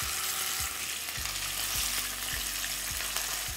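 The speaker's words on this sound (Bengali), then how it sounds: "তখন এখানে দিয়ে দিতে হবে ম্যারিনেট করা মাছগুলো।" Marinated bhetki fish fry in hot oil, a steady loud sizzle and crackle filling the whole stretch with no voices.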